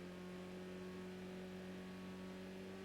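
A video-game car engine droning at a steady pitch, a continuous even hum that never climbs or revs up, heard alone.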